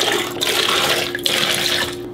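Running water streams steadily from a kitchen tap into a pitcher, filling it with three cups for a homemade lemon drink; a continuous close splashing hiss with no talk.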